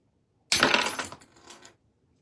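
Scissors snip through craft material for a gingerbread man basket, giving one loud, close, rasping cut that lasts about a second and then trails off. No one speaks.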